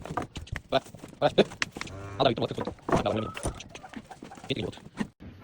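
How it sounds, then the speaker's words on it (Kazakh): Calves low and bleat repeatedly at close range, mixed with other farm animal noises and some scattered talking. "Қаншама бұзау қашып кетіп жатыр, былай да былай."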